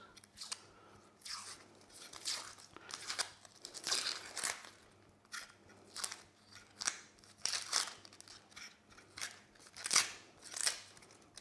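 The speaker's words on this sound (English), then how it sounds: "I'm going to use the paring knife just to nick at the edges of the skins." A paring knife nicks at the edges of an onion's papery skin and peels it away, giving a series of close, crisp crackling and crinkling bursts in an irregular rhythm, fairly quiet with no talk.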